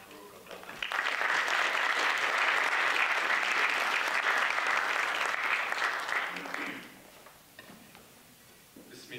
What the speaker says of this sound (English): Please join me in giving a warm round of applause to Dr. Umar Faruq Abd-Allah.